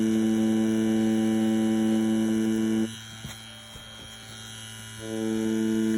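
Tattoo machine running an InkClaw 4-round mag needle cartridge, a steady close electric hum with strong tonal buzz that drops away for about two seconds mid-run and then resumes at full level, with no talking.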